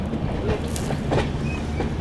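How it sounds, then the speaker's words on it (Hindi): Kashi Mahakal Express passenger train running toward Jafrabad Junction, a close, steady rumble of wheels and carriage rattle with faint rail clicks, heard from on board. "अभी ट्रेन हम लोगों की पहुंच रही है जाफराबाद जंक्शन रेलवे स्टेशन।"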